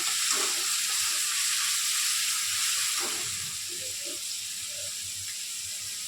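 Chicken pieces frying in a pan, a steady loud hiss and sizzle with occasional soft stirring knocks and no voices.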